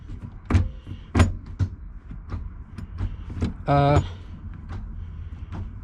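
Manual gear shifter in a Honda CRX being moved through the gears: a few firm clunks and clicks inside the cabin, with one short mechanical whir, while someone talks over them.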